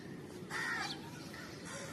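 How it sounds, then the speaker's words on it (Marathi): A single harsh crow caw rings out once over a quiet outdoor background, fairly near, followed by faint distant noise. "चला तर कावळे चला. आलेत"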